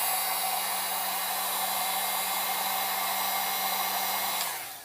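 A heat tool or hot-air gun blows steadily and loudly, warming the charging port flex cable inside an iPhone 5S during a Lightning port replacement, with a constant whoosh and hum that cuts off right at the end.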